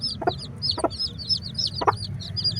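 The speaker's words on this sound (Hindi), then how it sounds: "अब जी हमने अपनी इस चूज़ों वाली मुर्गी को भी डाल दिया है" A mother hen with chicks clucks in short repeated calls close by while feeding, over a steady background of chirping birds and low rumble.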